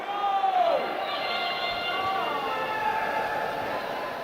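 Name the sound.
crowd cheering at start of robotics competition match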